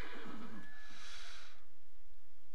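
A horse in the Minecraft Hexxit modpack gives a single drawn-out whinny that rises and fades over about a second and a half, heard alone against quiet game ambience.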